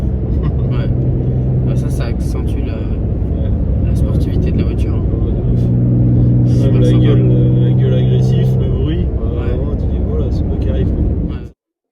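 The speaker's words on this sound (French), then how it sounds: "Maintenant on entend le moteur." An Alfa Romeo 159 Ti's V6 engine drones loudly and steadily, its pitch climbing through a gear, then it cuts off abruptly near the end.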